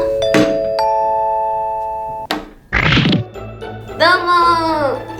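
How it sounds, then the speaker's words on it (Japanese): A doorbell-style chime effect rings out with clear sustained electronic tones, followed by a thunk, a knock-like burst and a brighter chime, each separated by short gaps of silence. "ピンポーン。"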